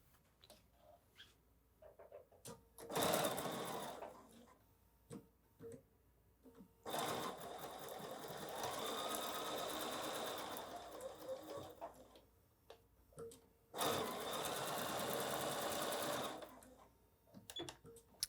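A sewing machine stitches a quilt block seam for a wall hanging in three long, steady runs, with quiet fabric handling and clicks in the gaps between them.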